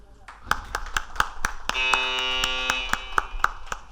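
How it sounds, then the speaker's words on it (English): A buzzer pressed at an app launch event sounds one sustained electronic tone lasting about two seconds, with rhythmic applause and clapping throughout and a voice speaking over it. "Please press the buzzer and officially launch a revolutionary mental health app for all."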